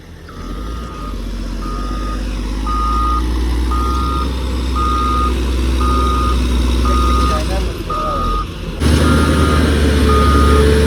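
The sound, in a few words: motor grader reversing with backup beeps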